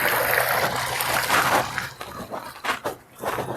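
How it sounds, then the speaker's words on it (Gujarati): Irrigation water pours into a chili field, a steady broadband rush with trickling and splashing that fluctuates and dips briefly near the end, heard outdoors without talk. "આપણે આ મરચીમાં જ પાણી ચાલુ કર્યું છે"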